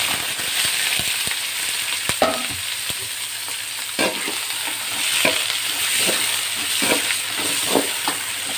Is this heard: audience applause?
no